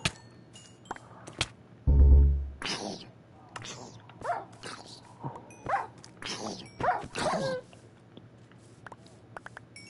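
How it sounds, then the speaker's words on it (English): Dog barking and whimpering in Minecraft Hardcore survival, a few short yips and barks scattered among frequent talking, with one loud low thump partway through. "I need to feed my dog."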